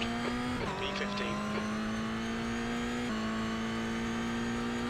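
A race car in a racing video game accelerates out of the pits at Adelaide on cold tires. The loud, continuous engine whine climbs steadily, with brief pitch drops at gear changes.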